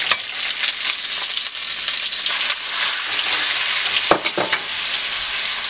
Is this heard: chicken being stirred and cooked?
yes